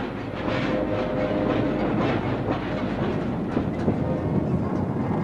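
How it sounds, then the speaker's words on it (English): A British freight train hauls rapid-loaded coal hopper cars, the wagons rumbling past steadily with a rhythmic clickety-clack of wheels on rail joints, loud and continuous with no talk. "The traditional railway coal trucks gave way to rapid-loaded hopper cars"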